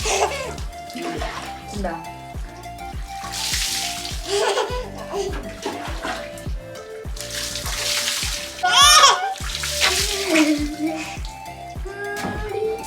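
A baby being bathed at home, with water splashing and sloshing in irregular bursts close by, mixed with a child's giggles, laughter and adult talk throughout.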